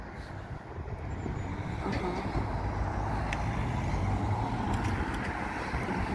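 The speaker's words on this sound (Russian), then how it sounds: "сейчас машина будет проезжать" A car drives along a street with a broad, rumbling roadway noise that swells as it nears and stays close and fairly loud, with no talk.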